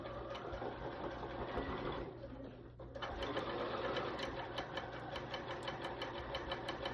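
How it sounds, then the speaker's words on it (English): A sewing machine stitches a fabric seam at a moderate, steady pace, its rapid needle chatter close and continuous, with a brief slowdown and pause midway before it resumes. "And I just sew, and I don't really go too fast when I'm at this area."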